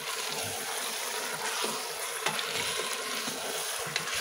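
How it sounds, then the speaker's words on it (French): Meat and onions sauté in oil for a rice-with-meat dish, giving a steady, close broadband sizzle with faint scattered clicks and scrapes, no voices. "Maintenant, on va les faire revenir avec les oignons."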